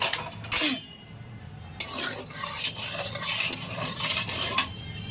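Potatoes fry in hot oil with turmeric and salt, a crackling sizzle swelling in bursts while a utensil clinks and scrapes against the pan.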